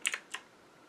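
A few quick key presses on an Aukey KM-G6 gaming keyboard, with three soft, sharp clicks close together and quiet background afterward.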